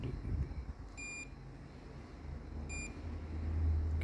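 A multimeter in continuity mode gives two short, bright beeps about two seconds apart, over a low background rumble.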